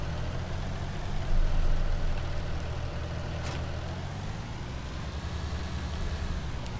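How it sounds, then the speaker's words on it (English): Tractor engine in the Farming Simulator 19 video game, a steady low idling rumble that holds on without break for several seconds, with no voices over it. "Just move the tractor."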